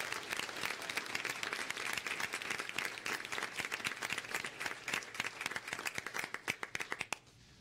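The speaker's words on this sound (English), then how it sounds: "Can we give them one more round of applause?" Applause from an audience at a school board meeting, following a junior high performance: dense, steady clapping for about seven seconds, with a few louder individual claps standing out before it stops abruptly near the end.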